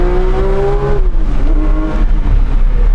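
A Porsche 911 S/T engine with a lightweight flywheel revs hard up close, the pitch rising quickly then dropping sharply and climbing again, loud and continuous with no talking.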